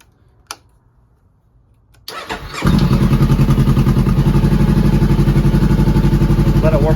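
A Honda CBR500R motorcycle engine cranks and fires after a quiet pause, then settles into a steady, loud, close-up idle with an even pulsing rumble for the remaining seconds.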